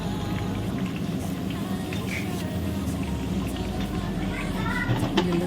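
Onions, green chillies, fenugreek leaves and spices fry steadily in a pan for chicken biryani, giving a continuous sizzle and bubbling with a few clinks near the end.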